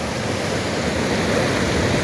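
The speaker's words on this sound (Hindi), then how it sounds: "ऐसे छोटे छोटे झरने हैं, आप इसे आबशार भी कह सकते हैं।" A small waterfall and clear flowing stream in the mountains near Sharda, heard as a steady, even rush of water close by with no voices.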